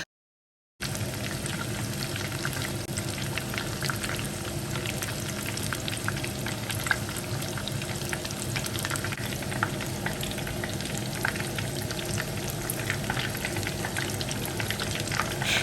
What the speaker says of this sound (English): for about 10 minutes of frying this, you will be so done with your crispy, golden, beautiful fried meat pies